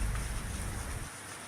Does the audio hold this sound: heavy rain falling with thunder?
yes